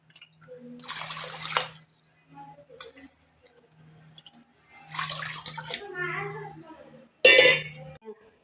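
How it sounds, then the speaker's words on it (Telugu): Measured cups of water poured in several bursts into a vessel for making panakam, splashing and gurgling, with short pauses between pours and no one talking. "అదే కప్పుతో నీళ్లు కొలుచుకి వేసుకోవాలి"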